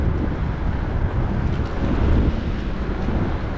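Cold wind blowing steadily across the microphone outdoors, a continuous low rumbling buffet that swells slightly midway, with no talking.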